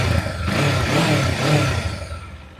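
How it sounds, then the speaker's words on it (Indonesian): A 2026 Kawasaki KLE 500 adventure motorcycle with its standard exhaust, revving close by in a steady, mellow rise and fall for a few seconds with no other sounds. "Coba dengar ya knalpotnya ya."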